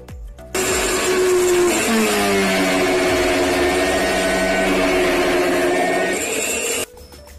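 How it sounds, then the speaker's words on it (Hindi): A kitchen blender churns cream (malai) into butter for homemade desi ghee, its motor roaring loud and steady for about six seconds before cutting off, with no talking. "हम इस ब्लेंडर की सहायता से इसको ब्लेंड करेंगे और मक्खन को निकालेंगे"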